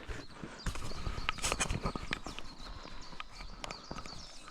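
Horse hooves clop in an uneven walking rhythm on rough ground past trees, fairly close, with rustling and outdoor background noise throughout.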